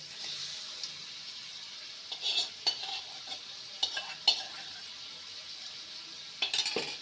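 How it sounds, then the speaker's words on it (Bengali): Fried potatoes and okra being stirred in a pan with fennel, giving soft scraping and light sizzling with a few sharper spoon clicks against the metal, alone with no talk. "ভালো করে নেড়ে নেব এবারে ভেজে রাখা আলু আর ভেন্ডিকে দিয়ে দেবো"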